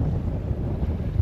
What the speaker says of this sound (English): Wind is still up.